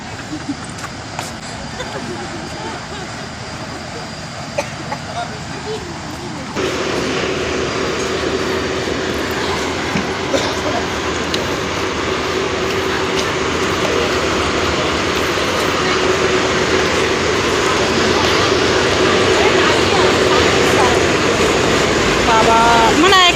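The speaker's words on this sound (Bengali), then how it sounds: "এখানে এই যে লঞ্চ চলে এসেছে" A passenger launch boat pulls in at high tide. Its engine makes a steady, droning rumble with a low hum that swells noticeably louder partway through and keeps building, while people chatter faintly in the background.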